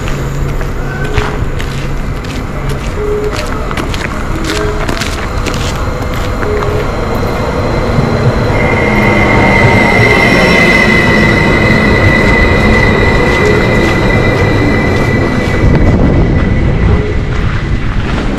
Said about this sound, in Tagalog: Parating na yung train natin